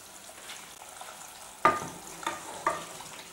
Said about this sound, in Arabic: الفقاع قاعد يطيب، شوفو كيفاش سايب الماء نتاعو